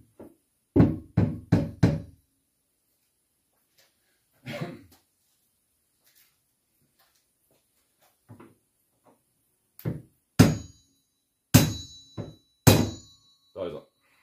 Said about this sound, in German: Ein kleiner Schlag mit dem Schonhammer kann irgendwie auch gut helfen.